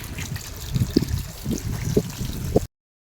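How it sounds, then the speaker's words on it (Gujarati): Water trickles and splashes over freshly cut vegetables being washed by hand, a close, steady running stream with small louder splashes every half second or so and no talking. "હવે આપણે એને ધોઈ નાખીએ મસ્તના પાણીએથી"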